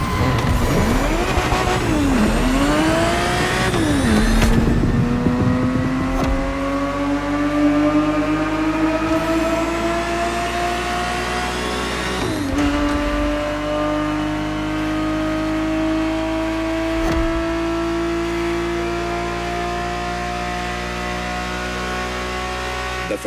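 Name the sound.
Ferrari 365 GTB4 engine revving in video game The Crew Motorfest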